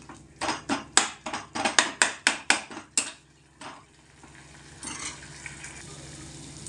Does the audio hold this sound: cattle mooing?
no